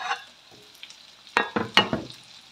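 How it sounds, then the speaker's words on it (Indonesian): Garlic, shallots and red and green chilies stir-fried in a pan for a banana blossom dish, a soft sizzle broken by a few sharp scraping stirs near the end. "tumis bumbunya sampai benar-benar matang tanak ya"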